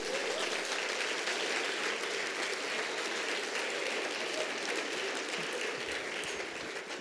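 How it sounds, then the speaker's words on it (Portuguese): A church congregation applauds during a prayer service, a steady wash of many hands clapping at moderate distance for several seconds, with no talk over it. "Você pode aplaudir ao Senhor"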